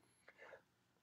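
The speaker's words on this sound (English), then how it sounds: "Not going to stop this video for a little cough" A single short cough, close and fairly loud, bursts out at the very end after near silence.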